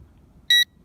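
A Teegi Visuo XS818 GPS drone controller gives a single short, clear electronic beep after gyro calibration, alone against a quiet background.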